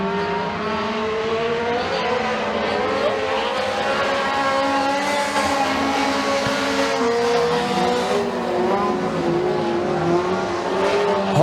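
Dirt track race cars roar around a McKean County Raceway oval during heat races, a loud, continuous layered engine drone with shifting pitches as several cars pass and accelerate through the turns.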